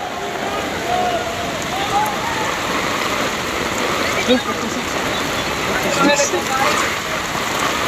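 Heavy typhoon rain from Typhoon Carina pours down in a dense, constant wash, with voices heard now and then over the downpour.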